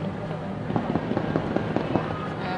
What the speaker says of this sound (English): Fireworks. Beautiful view.